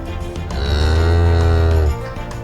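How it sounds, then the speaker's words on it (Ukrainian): A single long, deep moo from a cow, loud and close, lasting about a second and a half. "це корова. Вона говорить му."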